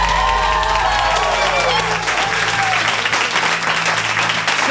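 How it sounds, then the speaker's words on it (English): A large audience applauds and cheers in a dense, continuous roar, with a voice speaking over the start before the clapping takes over. "I want to give you all a big round of applause for getting here."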